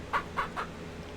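Chickens in the ranch simulation game Ranch Sim give three quick, evenly spaced clucks, clear and fairly close, with no voices.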